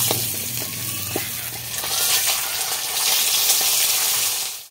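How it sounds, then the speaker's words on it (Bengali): Pomfret fish frying in hot oil, a steady close sizzle with bubbling crackle that swells slightly and then cuts off abruptly at the end. "আমি মাছগুলো তুলে নেব, বাকি মাছগুলো ভেজে নেব।"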